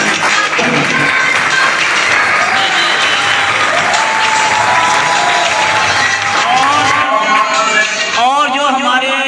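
Applause at a school ceremony for a defense day: sustained, loud clapping from a large crowd fills the whole stretch, and a voice over a loudspeaker cuts in near the end.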